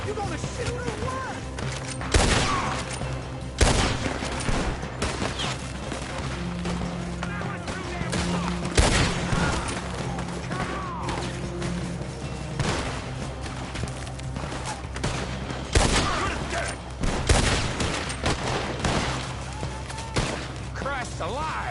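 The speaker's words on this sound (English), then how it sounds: "You gonna shoot or what?" Gunfire in Red Dead Redemption 2, a loud, dense fusillade of shots cracking in irregular bursts throughout, with horse hooves clopping and voices talking over the shooting.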